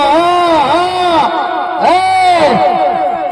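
Crowd at a race shouting and cheering in repeated rising bursts, loud and close, with whoops swelling and fading over a few seconds.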